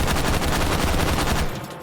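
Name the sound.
rifle shots from H51 with muzzle brake and stock, H3VR video game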